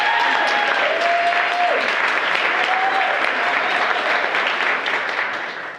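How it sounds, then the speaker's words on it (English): A live audience claps loudly and continuously at a podcast's 100th-episode event, with a few whistles riding over the steady applause. "Clap it up,"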